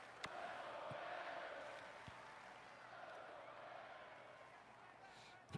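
Roar of a large stadium crowd at a Michigan vs Wisconsin football game swelling and holding, distant and continuous, with a few sharp knocks and a commentator's voice talking over it.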